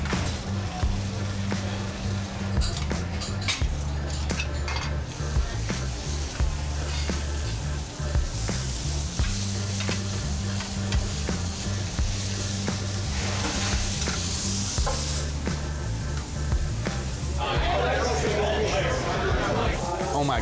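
A sizzling plate of steak with brown butter hisses steadily in a busy Wisconsin steakhouse, with cutlery clinks and dining-room chatter layered over it and background voices throughout.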